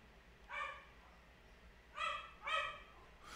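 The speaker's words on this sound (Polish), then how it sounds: "Co z tym psem, kurde bele?" A dog barks in a short irregular series, about three or four sharp yelps, fairly close and clear against a quiet background with no talk.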